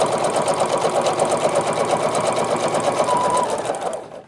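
Singer Futura XL 550 sewing machine stitching faux leather, a steady rapid mechanical chatter running continuously at close range before stopping at the end.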